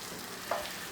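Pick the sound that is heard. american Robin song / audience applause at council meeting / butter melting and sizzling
butter melting and sizzling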